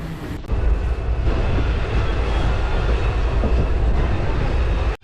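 A train arriving at Nagore railway station rumbles and rattles loudly and continuously, a steady close roar of rolling wheels that drops off abruptly at the end.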